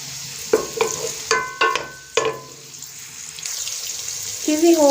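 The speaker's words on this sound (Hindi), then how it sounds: "प्याज को हम लाइट ब्राउन कर लेंगे" Two to three medium onions frying in oil until light brown, a low sizzle under sharp clinks and scrapes of a utensil against the pan, close and moderately loud.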